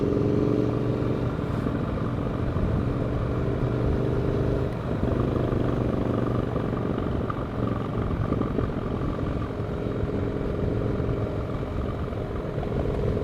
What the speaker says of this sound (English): riding down this mountain on one of my favorite motorcycles